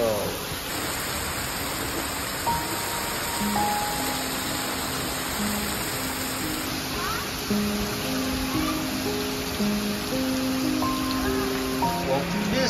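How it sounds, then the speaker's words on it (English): Steady rain falls during Japan's rainy season, a continuous dense hiss that covers the whole span, with faint tonal sounds layered over it. "They're gonna love this rain."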